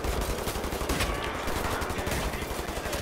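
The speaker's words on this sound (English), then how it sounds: "I'm gonna shoot these fucking Nazis" Rapid, continuous gunfire aimed at Nazi soldiers in Wolfenstein: The New Order, loud and dense bursts of automatic shots throughout, with no talking.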